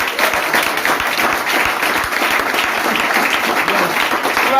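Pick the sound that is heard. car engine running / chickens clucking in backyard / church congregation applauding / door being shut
church congregation applauding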